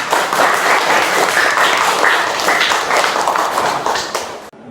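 A classroom of children clapping together after a group discussion presentation, steady dense applause filling the whole stretch, close and loud, fading out at the very end.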